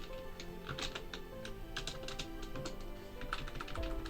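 Rapid, uneven clicking of keys on a computer keyboard, steady and close, with no speech.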